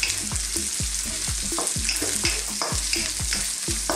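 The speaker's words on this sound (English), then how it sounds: "So we will cook these vegetables for a few minutes" Broccoli and carrots stir-fry in a pan for noodles: a loud steady sizzle punctuated by rapid rhythmic clanks of a utensil tossing and scraping the vegetables, close up, no voices.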